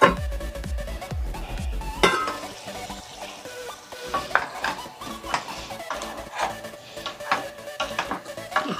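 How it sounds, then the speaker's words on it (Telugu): Chicken stew simmering in a pot with a steady bubbling sizzle and frequent scrapes and clatter of a spoon against the vessel, close and continuous, with a louder knock near the start. "చికెన్ కుక్ అవుతూ ఉందండి."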